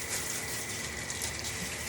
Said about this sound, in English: so we're just rinsing it all out